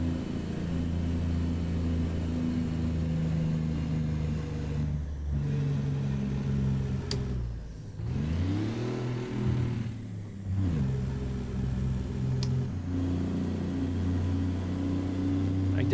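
A Paystar truck with a 10-speed gearbox drones steadily in American Truck Simulator, its engine note dipping and rising through gear changes, a continuous mid-level rumble with no talk.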